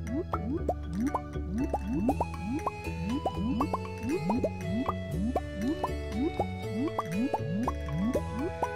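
Watering plants in the farming game Stardew Valley, a steady run of bright watery plops and drips repeating quickly over looping game music, close and continuous.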